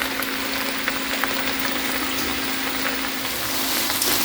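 Ground beef, peppers and onions sautéing in a pan over turned-up heat, giving a steady, dense sizzle with a faint low hum beneath, continuous and close, with no talking.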